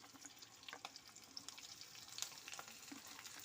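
Chopped onion goes into a little oil with fragrant garlic, giving a soft, close sizzle with light spatters and occasional stirring clicks, quiet and unaccompanied by speech.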